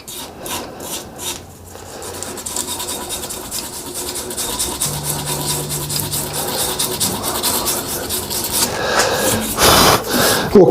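Abrasive grit sands a cast resin and wood shaving brush handle with close, continuous raspy rubbing. Rhythmic strokes open the clip, then the scratching grows into a steady, louder friction.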